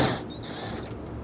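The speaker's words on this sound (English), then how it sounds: "right up here we have a 10mm bolt that secures the bumper to the fender itself. I want to loosen and remove that." Small ratchet loosening a 10mm bolt holding the bumper to the fender on a 2011-2017 Nissan Quest, a quick close metallic creak and squeak with faint clicking, quiet and brief.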